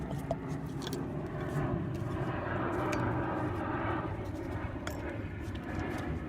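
A fixed-wing aircraft passes overhead outdoors during a front disc brake overhaul on an old GM 8-lug K truck, its steady broad engine drone filling the clip with a few faint workshop clicks on top.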